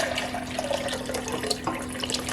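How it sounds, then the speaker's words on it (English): Soaked raw cashews and dates slosh and trickle with their soaking water as they are poured into a measuring cup, a close, continuous watery pour with small splashes. "So I'm going to pour all of this into the measuring cup."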